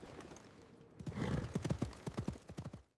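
Horse hooves clip-clop and gallop away as a rider sets off, a fast rhythmic patter of hoofbeats on the ground, fairly faint and a little distant.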